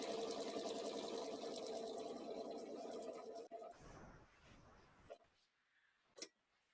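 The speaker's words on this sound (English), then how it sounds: "I am literally just stitching the outside edge" A sewing machine stitches steadily around the outside edge of a pattern, running continuously and fairly loud for about three and a half seconds, then stopping, followed by a few faint handling clicks.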